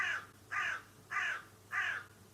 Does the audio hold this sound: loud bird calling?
yes